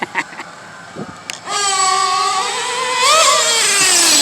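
Pico P3 motorbike engine revving hard at full throttle during break-in on concrete, a few faint knocks before a loud rising rev that climbs again toward the end.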